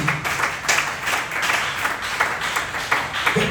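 A church congregation at a Tuesday service claps together for Jesus, a loud rhythmic burst of many hands beating in a roughly regular pulse with faint voices mixed in.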